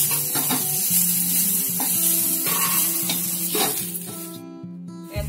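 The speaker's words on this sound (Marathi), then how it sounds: "टोमॅटो असं परतून घेतलं ना" Tomatoes for a broad-bean gravy sautéing in a pan, giving a steady close sizzle with rhythmic scraping stir strokes, fading near the end, with no talk.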